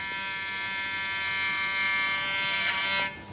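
A violin string bowed continuously gives a steady, sustained buzzing tone rich in overtones, close and even in loudness for about three seconds before fading briefly at the end.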